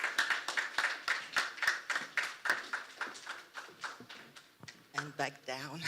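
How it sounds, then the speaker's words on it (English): An audience claps at a forum event as a woman comes up onto the stage, a dense run of sharp hand claps fading out after a few seconds, with a voice beginning to speak at the end. "And you clap her onto the stage, otherwise she won't come on the stage."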